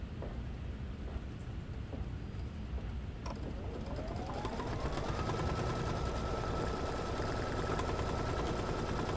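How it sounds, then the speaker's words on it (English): A sewing machine runs a folding stitch on printed fabric, a steady whirring motor hum that rises in pitch and settles into a continuous drone, heard alone at moderate volume. "We place it down and we run our folding stitch."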